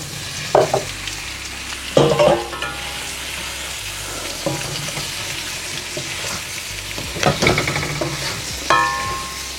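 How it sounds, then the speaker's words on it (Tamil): Paneer cubes tossed and frying in hot oil in a pan for a paneer and capsicum curry, with a steady sizzle and repeated stirring clatters of a spoon against the pan, close and fairly loud. "இந்த பன்னீரை கொட்டி பிரட்டி வச்சுக்கொள்வோம்"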